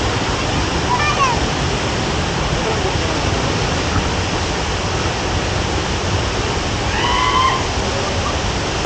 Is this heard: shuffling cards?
no